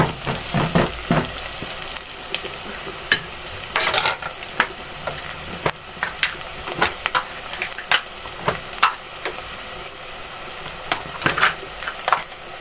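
Ground onion being stirred into fried tomatoes in a pot for degi aloo, with a steady sizzle and scattered scraping clinks of a spoon against metal, close and continuous.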